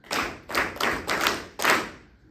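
A rehearsal group claps a rhythm together, sounding five loud, sharp, evenly spaced bursts of clapping in a row, with a short gap before the last.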